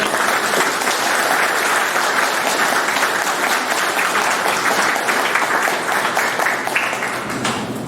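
Sustained applause fills a military Black History Month observance at Fort Lee, Virginia, as service members clap for a guest speaker. The dense, even clapping holds steady and fades slightly near the end.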